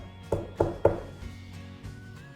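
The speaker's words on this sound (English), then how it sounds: "Mr. Cream heard a quiet little knock at the front door" Quiet knock at a front door: three soft, evenly spaced raps close together, then a fainter fourth tap, with no voices.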